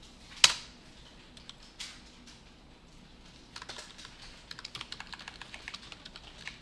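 Typing on a computer keyboard while working in a code editor: a sharp click early on, then scattered keystrokes building into a steady run of quick, close taps.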